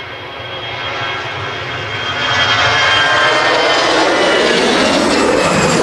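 EasyJet jet airliner taking off from Manchester Airport runway 23L, loud close jet engine roar building quickly to a full steady thunder, with no talking.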